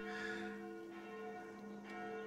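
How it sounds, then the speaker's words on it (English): Church bells ringing at noon in the video game Sucker For Love, a steady sustained peal with clear ringing tones and two fresh strikes layered over the hum, continuous and moderately loud with no talking. "Those sound like the church's noontime bells."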